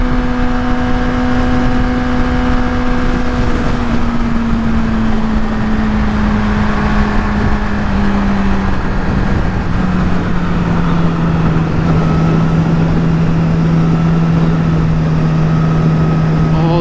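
A 2016 Yamaha R6 motorcycle leans through a curve on an empty road, its steady engine note holding close and loud while wind rushes heavily over the rider throughout, the pitch easing slightly lower as it goes.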